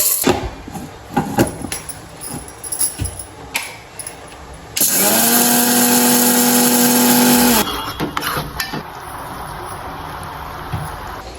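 Electric mixer grinder grinding roasted moong dal into flour for pesarattu-style laddu, a loud steady motor whine lasting about three seconds mid-clip, framed by clattering kitchen knocks and handling before and after.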